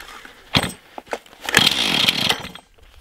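A chainsaw used for cutting firewood is pull-started from the ground: a few sharp cord pulls and sputters, then the engine catches and runs briefly at a high whine before dropping off.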